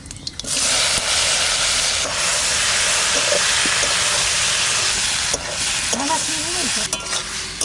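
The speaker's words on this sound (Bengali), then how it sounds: "তেল, 5 ফোড়ন, একটা শুকনো লঙ্কা, টমেটোটা দিয়ে দিচ্ছি।" Tomato drops into hot oil with five-spice seeds and a dried red chili for a Bengali chutney, giving a loud, steady sizzle and hiss that runs unbroken, with occasional stirring clinks near the end.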